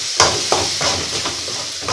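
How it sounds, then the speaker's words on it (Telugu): Tomato puree made from large tomatoes with kasuri methi frying in a pan, making a close, steady sizzle broken by several sharp stirring scrapes and clinks. "నేను 4 టమాటాలు పెద్దవి తీసుకున్నానండి, ఆ ప్యూరీ ఇందులో వేసేస్తున్నాను."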